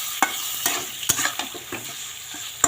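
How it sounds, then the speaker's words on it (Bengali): Meat curry stirred in a hot pan, a steady sizzle of frying broken by regular scraping strokes of the spoon, close and clear with no voices. "মাংসটা ভালো করে নেড়ে নিয়ে আসি।"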